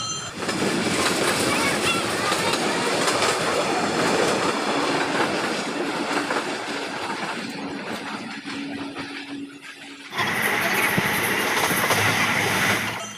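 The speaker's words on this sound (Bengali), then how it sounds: "এটা হলো আপ হাওড়া রাধিকাপুর কুলিক এক্সপ্রেস।" Up Howrah–Radhikapur Kulik Express train passing close by, a loud sustained rumble and rattle of rail cars with a sharp shift in tone near the end as it goes by.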